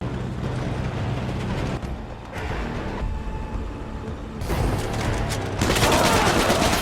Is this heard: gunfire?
yes